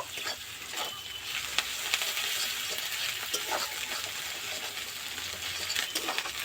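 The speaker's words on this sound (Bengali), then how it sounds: "আদা রসুনটাও আমি একটু ভেজে নেব" Ginger garlic paste fries in a pan with onions, giving a continuous close sizzle and occasional soft clinks of stirring, no voices.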